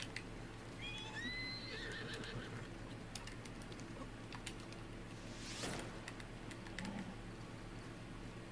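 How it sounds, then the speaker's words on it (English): A horse in the video game Breath of the Wild lets out a rising whinny near the start, followed by scattered hoof clops and clicks over a low steady hum, with one sharp burst midway. "Oh, that horse kicked me."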